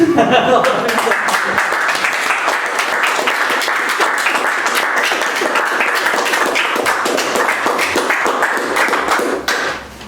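An audience at an evening of Alevi song and poetry gives sustained, dense applause for about nine seconds, clapping loud and close throughout before it stops abruptly near the end.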